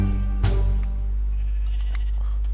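A rainbow sheep in the Minecraft video game gives a single bleat near the start, loud and close over a steady low background drone, with no talk.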